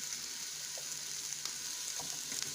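Meatballs for spaghetti and meatballs fry in a pan with a steady, close sizzling hiss that holds throughout, broken by a few faint pops and crackles.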